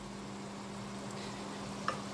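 Ragu sauce in a pan gives a soft, steady, faint sizzle with a light stir near the end, with no voices.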